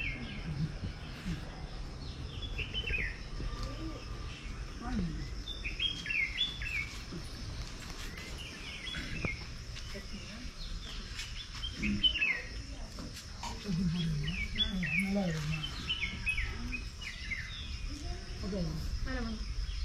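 Birds chirp and tweet repeatedly around a rural homestay near Dubare Elephant Camp, with bursts of song scattered over a steady insect-like hiss and faint background murmur.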